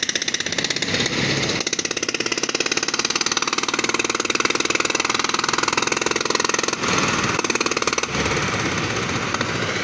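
A loud fishing boat engine chugs close by at the sea shore with a fast, even, pulsing rattle that runs steadily throughout, its tone shifting slightly near the end.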